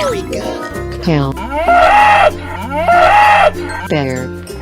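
Cartoon cow mooing in a children's animated animal clip, several drawn-out tonal calls repeating over about four seconds over a steady music bed.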